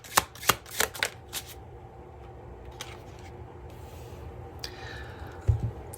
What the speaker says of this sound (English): I'm guided to pull 2 more cards here.